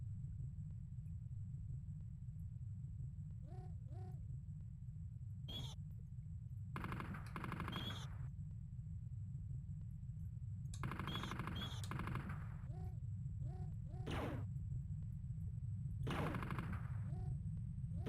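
Bursts of in-game gunfire from a live-streamed shooter, scattered short volleys and single shots over a steady low rumble, with a few louder clusters of rapid fire.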